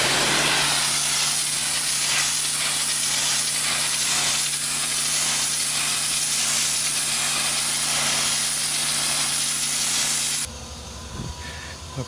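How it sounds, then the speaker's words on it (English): A high-pressure power washer blasting dirt, mold, moss and weeds off a patio, giving a loud steady hiss and spray with a rhythmic swishing sweep, cutting out near the end to quieter surroundings. "We're going to power wash this, and it's almost like we're weed whacking at the same time, getting rid of all the weeds."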